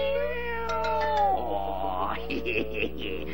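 Kittens meowing in a Tom & Jerry cartoon, a drawn-out meow followed by a quick string of shorter mews, close and clear over a steady background hum.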